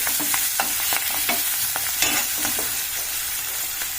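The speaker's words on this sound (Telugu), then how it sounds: "ఇది నూనెలో ఫ్రై కావాలండి" Fenugreek leaves fry in oil with a loud, constant sizzle, punctuated by brisk stirring scrapes and crackles close by, with no voices over it.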